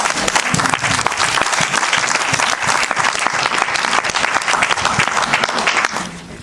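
A church congregation in Toulouse applauds loudly and acclaims God, vigorous sustained clapping from a large crowd with scattered voices inside it, fading slightly at the end.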